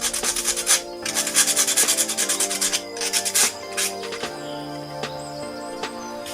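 Steady rubbing and scraping of sandpaper smoothing a coconut shell, in repeated strokes with short pauses, close up and fairly loud, with no voices.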